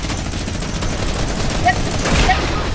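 A minigun in a video game fires a sustained, rapid stream of loud shots that blur into one continuous roar for the whole stretch.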